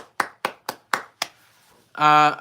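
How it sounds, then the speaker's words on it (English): One man claps for himself: five sharp, evenly spaced hand claps ring out close and clear, followed by a short buzzy, tonal burst. "Let me applaud myself."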